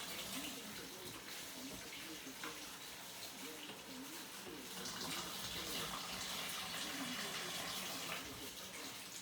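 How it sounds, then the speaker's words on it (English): Tap water runs steadily over frozen spinach in a kitchen sink, a continuous splashing rush that stays fairly constant and close for the whole stretch. "let some water run over it"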